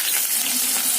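Dried red chillies and green chillies with onions frying in hot oil for an Andhra cucumber curry, a steady loud hiss and sizzle that continues without a break and is heard alone.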